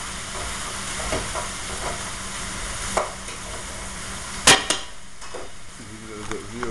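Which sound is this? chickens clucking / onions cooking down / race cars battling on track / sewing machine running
onions cooking down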